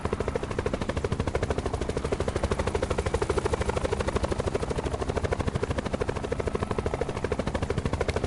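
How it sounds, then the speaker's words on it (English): Helicopter in the battle royale mode Blackout of Black Ops 4, parked near Nuketown, with a steady, loud rotor chop that beats continuously for the whole stretch with no voices over it. "there is a helicopter at the back of Nuketown"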